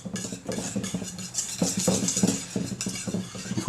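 Red velvet cake batter with vanilla and buttermilk mixed in a bowl: repeated clinking and scraping of a utensil against the bowl in an uneven rhythm, close and clear.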